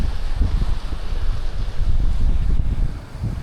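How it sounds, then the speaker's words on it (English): Heavy wind buffets the microphone in a constant low rumble, swelling and easing with gusts throughout. "it's going to get a little windy as we come around the point."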